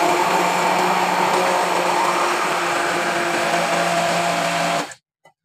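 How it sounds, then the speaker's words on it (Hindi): A kitchen blender whirs loudly and steadily, blending a strawberry milkshake with milk, a close, constant motor whine lasting about five seconds before it cuts off abruptly. "ये बहुत ही अच्छी तरह से मैंने इसको कर लिया ब्लेंड।"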